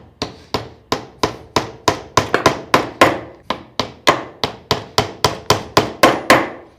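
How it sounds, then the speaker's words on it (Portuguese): A hammer drives four small nails into a wooden block while building a DIY C-clamp from a timber rafter. Sharp, close wooden knocks land in a steady rhythm, about twenty blows with no talking. "eu vou pregar apenas para que a cola fique. Vou botar 4 preguinhos apenas"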